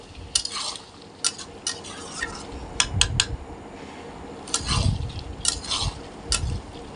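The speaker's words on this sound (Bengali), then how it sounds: "মরিচটা দিয়ে আমি আবারও ভালোভাবে কষে নেব" Chicken with ground chilli being stir-fried in a pan: a spatula scrapes and clacks against the metal in irregular bursts over a low, steady sizzle, close and moderately loud, with no talking.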